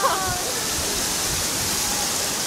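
A waterfall roars as a steady, dense rush of water, loud and continuous, in a rainy outdoor setting. A brief voice is heard at the start.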